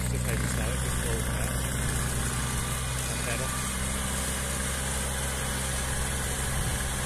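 A Kubota ride-on lawnmower engine runs with a steady, unbroken low drone close by, while people talk over it.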